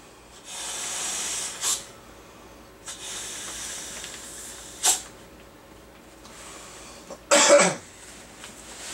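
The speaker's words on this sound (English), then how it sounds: "let me go ahead and blow this up. It's supposed to take about 10 to 15 breaths." Several long, breathy puffs of air are blown into the valve of a Klymit Static V inflatable sleeping pad, each a soft hiss with short pauses between, close and quiet, ending in a sharper gust.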